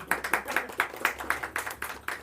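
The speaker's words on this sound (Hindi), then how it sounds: "ताली तो बजाओ" An audience at a Brahma Kumaris spiritual talk claps in a steady rhythmic beat, about ten sharp claps in unison, close and fairly loud.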